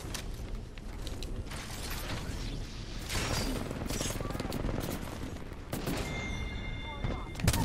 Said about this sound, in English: Every single team is shooting at me.